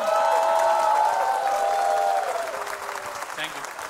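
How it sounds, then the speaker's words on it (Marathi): Loud audience applause at a live Marathi music performance with tabla and keyboard, dense clapping that holds steady and then slowly thins toward the end, with a faint voice briefly audible underneath. "जोरदार टाळ्या परत एकदा रोहितसाठी, तबल्यासाठी आणि कीबोर्डसाठी"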